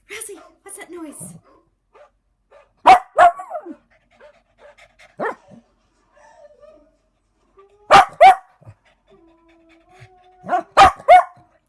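A dog sound effect plays in short bursts of loud barking, followed by spells of panting and quieter yips, with a person talking in between.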